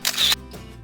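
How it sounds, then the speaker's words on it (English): A phone camera shutter fires once while photographing raw food at home, a short bright click-burst up close, followed by quiet room tone. "just press the shutter button, and that's it"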